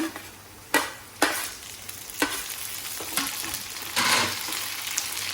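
Onion and tomato frying in a pan while being stirred, with a steady close sizzle broken by several sharp scraping strokes of the spoon at uneven intervals, followed by a louder hiss.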